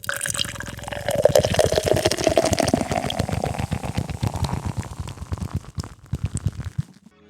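Root beer pours into a mug close up, a bubbly gurgling stream that slows and fizzes before trailing off into quiet.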